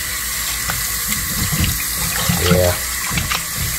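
Running tap water rinsing a raw T-bone steak in a sink, a loud steady splashing stream close by with brief handling sounds and a short spoken word.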